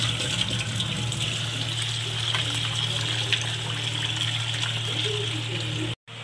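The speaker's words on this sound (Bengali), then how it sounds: "এবার চালটাকে আর ডালটা আমি ভালো করে 2-3 বার ধুয়ে দিলাম।" Rice and lentils are rinsed in water for khichuri as a steady running gush of tap water pours close by over a low constant hum, cut by a brief dropout near the end.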